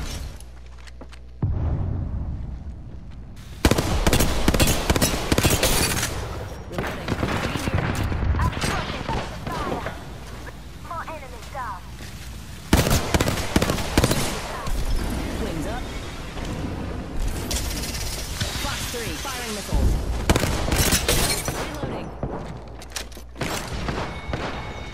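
Gunfire from the video game Apex Legends comes in repeated heavy bursts of loud rapid shots and thuds, spread across a long stretch with quieter gaps between volleys and a voice talking at times.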